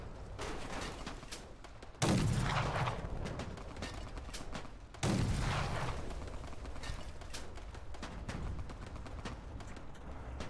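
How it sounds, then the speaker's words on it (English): In Fallout: The Frontier, two loud gun blasts with ringing tails stand out among scattered lighter shots and mechanical clatter. "Something's still shooting me."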